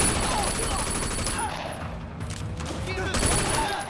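Gunfire in the Sleeping Dogs video game, a dense burst of shots running steadily through the whole stretch, with a voice partly audible beneath it.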